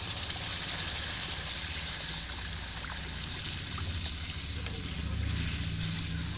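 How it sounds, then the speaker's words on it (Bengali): Water is poured into a pan of fried spices while making a tilapia fish curry, and a continuous hot sizzle and bubbling follow, fairly quiet and close with no talking. "এখন আমি পরিমাণ মতন জল দিয়ে নেব।"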